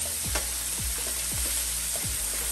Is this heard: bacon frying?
yes